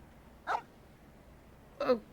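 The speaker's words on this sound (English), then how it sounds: "why was there a dog?" A dog in Genshin Impact barks twice, short and fairly faint, with a long pause between the two barks against quiet background.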